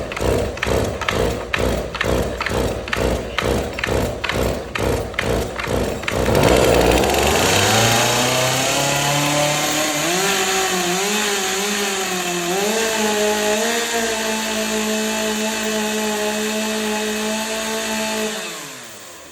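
Rapid repeated pull-cord rattles on a flooded chainsaw set at half choke, then the engine catches and roars, revving up and down loudly before cutting out at the end.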